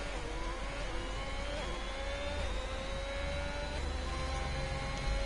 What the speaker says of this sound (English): listen to those engine sounds of the Haas